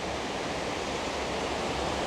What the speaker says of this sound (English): good shot of the water coming down the rocks there